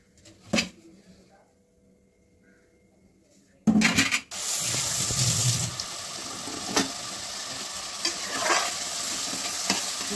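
Plantain pieces and prawns stirred and frying in a pan with tomatoes, giving a steady sizzle with scraping stir strokes after a quiet start and a brief knock.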